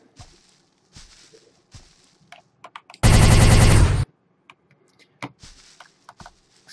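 A single burst of rapid machine gun fire in a video game, aimed at a helicopter, loud and lasting about a second. Quiet keyboard and mouse clicks come before and after it.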